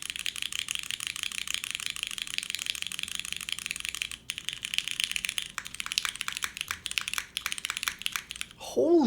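Rapid typing on a Lilac Kohaku mechanical keyboard with butter brown switches on a PC plate and GMK keycaps, close and steady clacking with a brief pause midway, ending in a short voice exclamation.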